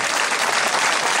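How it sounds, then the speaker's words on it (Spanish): Dense, steady audience applause fills a short stretch at a summer night pasodoble concert in Brozas, loud and continuous with no gaps. "Un fuerte aplauso"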